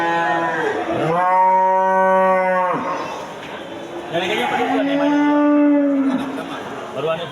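Breeding cows with their calves at the Gelumpang Payung livestock market give two long, loud, drawn-out moos close by, with a short pause between them.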